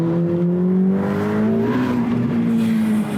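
A 2021 Ferrari F8 Spider twin-turbo engine holds a loud, smooth, sustained drone, its pitch sliding slightly as it runs at speed, close and continuous.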